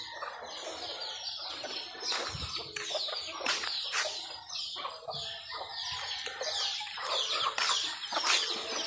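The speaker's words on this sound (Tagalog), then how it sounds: "Ayun yung mga manok niya ngayon guys." Several chickens cluck and chatter continuously at close range, with occasional sharper calls and bird chirps mixed in; no one speaks.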